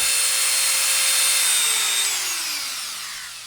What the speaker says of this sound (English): And then there's this Dremel, which is just that. You can hear that this one's faster.